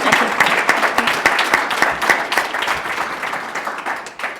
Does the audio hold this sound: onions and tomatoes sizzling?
no